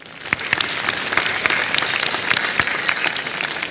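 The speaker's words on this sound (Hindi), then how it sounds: "और इस पे भी तालियां बज जानी चाहिए" Sustained applause from a studio quiz show audience, steady and fairly loud, with individual claps standing out throughout.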